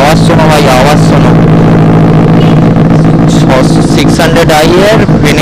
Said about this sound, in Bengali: 600i এর Benelli 2N exhaust SC project, আওয়াজ শোনো।